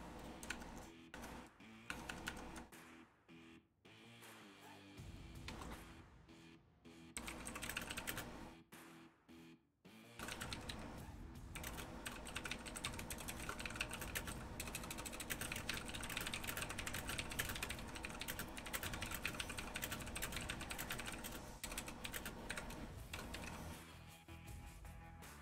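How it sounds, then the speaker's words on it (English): Steady rapid typing on a computer keyboard, close and continuous clicking with a few short pauses early on, then a dense unbroken run of keystrokes. "Excuse my typing."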